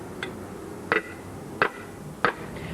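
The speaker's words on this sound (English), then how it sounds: "So beat a bent bottom flat with a hefty mallet, not a hammer" A hefty mallet strikes the bulging bottom of an aluminium pan to beat it flat, giving four separate sharp, metallic whacks spaced about two-thirds of a second apart, close up against a quiet background.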